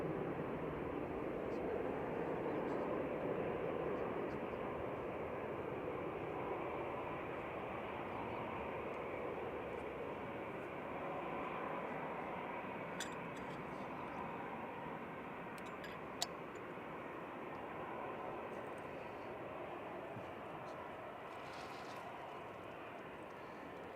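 A Boeing 787-8 Dreamliner on a TBC flight to Bulgaria rumbles at Manchester Airport, a faint, steady jet drone with a few small ticks and clicks, while people talk nearby.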